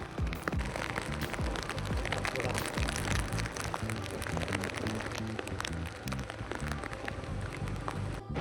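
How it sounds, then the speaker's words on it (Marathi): Heavy monsoon rain pours on a ghat trek route in a dense, constant hiss with patter and spatter throughout, loud and close. "या साईडला ना पाऊस जोरदार लागतो"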